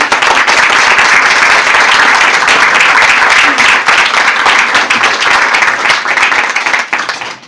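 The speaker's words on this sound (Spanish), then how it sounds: "le queremos dar pues un aplauso a nuestro amigo Alfredo por su dedicación" Loud, sustained applause from an audience at a talk on physical and spiritual healing, many hands clapping together and tapering off slightly near the end.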